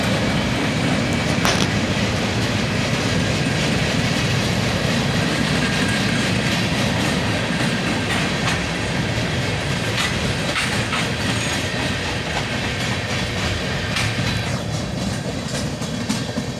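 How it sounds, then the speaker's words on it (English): A freight train rolls steadily past close by, its string of empty centerbeam cars producing a continuous rumble with rhythmic clickety-clack from the wheels and faint metallic squeals, loud throughout with no talk. "And a bunch more empty centerbeam cars, smack dab in the middle of the train."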